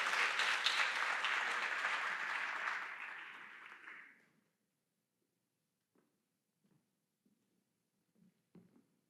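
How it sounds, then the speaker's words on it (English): Round of applause from a business-event audience, dense and loud for about four seconds before fading out, followed by near silence with a few faint scattered sounds. "Give him a round of applause."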